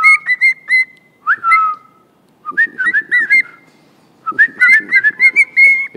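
A pet bird in a large pet shop whistles in short, bright, warbling phrases, grouped in bursts with brief pauses between them. The whistles are loud and close, with no talking.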